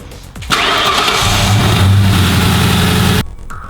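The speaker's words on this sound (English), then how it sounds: "I'll turn the car on" A 2004 New Edge Ford Mustang cranks briefly, fires and settles into a loud, steady idle that rumbles close by, then cuts off abruptly; no talking.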